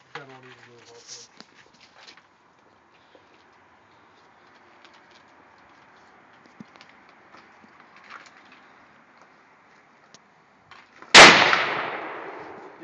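A gunshot blasting a safety lock off a gun, one loud close crack near the end that rings out with a metallic clang, after a long hush with faint bird cooing and scattered small noises.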